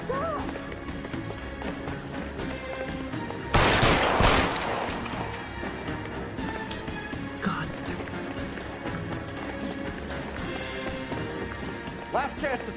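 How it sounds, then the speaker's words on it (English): Gunfire in the L.A. Noire video game during a chase, a loud sharp blast followed by a few scattered shots over running footsteps and background game sound, with voices talking. "Sabo, stop or I will shoot."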